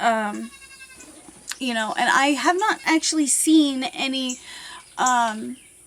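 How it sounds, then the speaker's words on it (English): Goats bleat in a nearby pasture with several wavering, nasal cries in quick succession, heard clearly beneath and between someone talking close by. "if you can hear goats in the background,"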